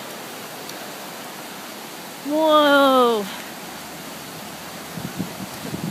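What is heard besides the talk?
flooded creek rushing water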